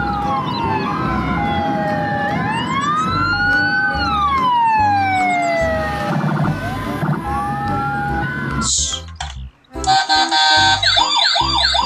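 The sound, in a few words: toy ambulance siren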